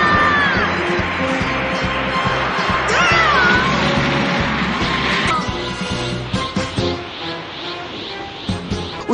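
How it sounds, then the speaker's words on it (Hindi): A child character in an anime lets out a powerful, sustained scream over loud music and crowd-like noise, then the scream gives way to quieter, choppier sounds. "उसकी एक चीख ने उन सबको हवा में उड़ा दिया।"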